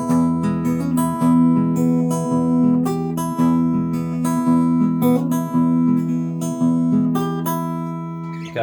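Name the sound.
finger-picked 12-bar blues on guitar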